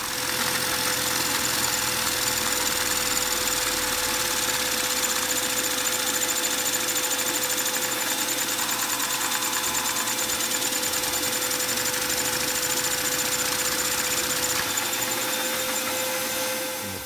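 A single-cylinder Lego vacuum engine runs with a fast, even mechanical clatter and hum, close and continuous, holding steady without pauses or voices.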